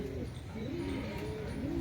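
Pigeons coo nearby, a series of soft, rolling low calls repeating several times in quick succession over a steady background murmur.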